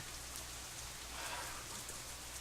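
Steady rain falls in a rainy scene from the visual novel Katawa Shoujo, a continuous even patter with a soft low hum beneath, no voices.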